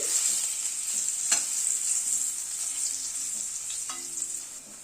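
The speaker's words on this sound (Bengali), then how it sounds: "আলুটাকে একটু ভেজে নিয়ে তারপর ফুলকপিটা দিচ্ছি।" Potatoes fry in a pan for a fish curry, a steady close hiss of oil with soft scraping stirs and a few light clicks of the spatula against the pan, and no voices.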